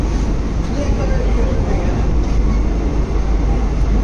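A passenger train pulls into Sabroom station in Tripura, a loud, steady rumble of wheels and carriages that fills the scene without a break and with no voices over it.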